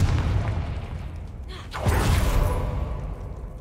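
The Confringo explosion spell is cast in Hogwarts Legacy: a swishing whoosh builds into a deep, booming blast. The low rumble lingers and fades afterward.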